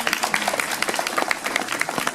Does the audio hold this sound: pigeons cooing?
no